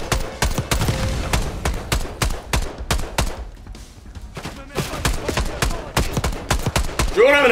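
Rapid video-game gunfire from Black Ops 6, with dense bursts of loud automatic shots that pause briefly mid-way and then resume, with excited voices shouting over the shooting.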